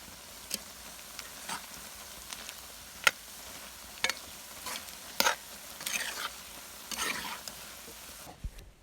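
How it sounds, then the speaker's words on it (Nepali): Soybeans fry in a pan until light brown, with a soft steady sizzle broken by scattered scrapes and taps of stirring, close by and with no talk. "यो सोयाबिनलाई चाहिँ हल्का ब्राउन कलर हुने गरी भुट्नुपर्छ।"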